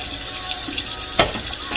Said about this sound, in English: And then we're gonna run it under cold water.